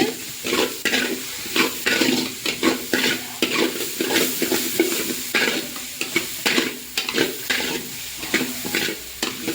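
Cabbage sautéing in a pan for noodles: rhythmic scraping stirs over a steady sizzle, close and fairly loud, with no talking.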